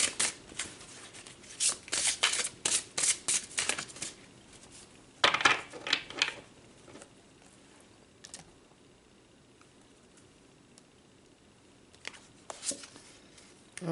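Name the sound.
tarot cards being shuffled for a clarifier pull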